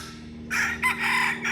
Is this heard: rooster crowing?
yes